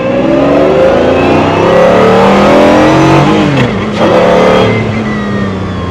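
A Pagani Zonda's engine roars loudly and continuously, its pitch rising and falling as it revs, heard up close with no talking.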